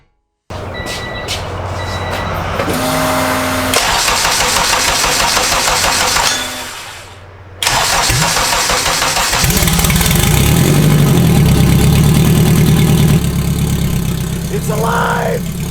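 Rebuilt K-series engine in an all-wheel-drive Honda Civic cranks, cuts out, then fires and settles into a loud steady idle close by, with no talk over it.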